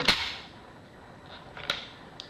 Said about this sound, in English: go ahead and remove the bolt